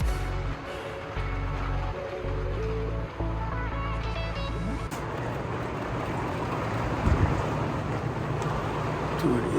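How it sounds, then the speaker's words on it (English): Heavy rain pours down on an RV during a 2 a.m. thunderstorm near Lubbock, Texas, a steady loud wash that deepens into a broad roar, with low rumbles early on. "It is pouring rain out there. You can hear it."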